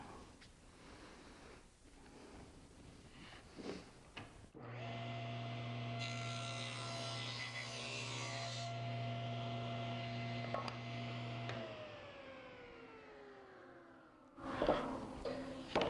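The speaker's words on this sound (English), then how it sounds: "And I'm going to put a kerf in it." A power saw cuts a kerf into a slightly cupped wooden board, giving a steady, loud whining motor tone for about seven seconds that then winds down, with quieter workshop sounds before and after.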